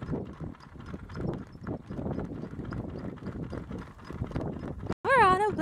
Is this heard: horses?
yes